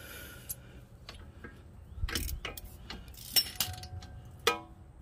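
Close ratchet clicks and metallic clunks from tightening shock absorber bolts on a vehicle, a few uneven bursts with short pauses.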